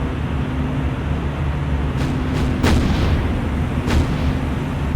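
Battleship gunfire booms in a naval game battle, a few sharp distant blasts standing out over a loud, constant rumbling background.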